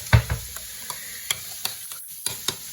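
A spoon stirring cumin into a thick vegetable kebab mixture, a few sharp scraping taps and clicks spaced irregularly, close and fairly quiet with no talking.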